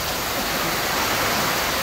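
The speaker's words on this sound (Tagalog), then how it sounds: "lakas ng ulan dito" Heavy rain pours down in a dense, loud, steady hiss with no break or voices.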